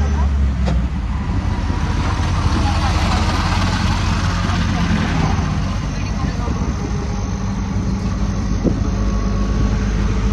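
An auto rickshaw engine drones steadily while riding, a loud, rough, continuous rumble with road noise, with a person speaking over it.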